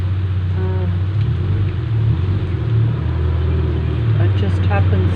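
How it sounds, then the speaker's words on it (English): A car pulls out and drives away on a rainy day, its low engine rumble swelling and fading nearby, with brief faint voice-like sounds drifting over the top. "Can you hear the car pulling out there, making the noise as it goes out?"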